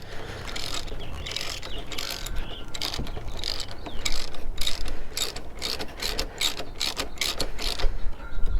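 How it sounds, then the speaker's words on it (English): A ratchet clicks in quick, steady bursts while tightening a fork cap during a progressive fork spring install on a Kawasaki KLR650 motorcycle, close and fairly loud with no talk. "I'm going to get the ratchet."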